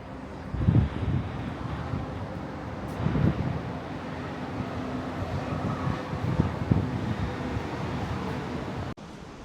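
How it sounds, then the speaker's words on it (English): Wind blowing outdoors on a blustery morning, buffeting the microphone in loud low rumbling gusts that swell and ease several times, with a steady broadband rush throughout and no talking. "It is windy this morning."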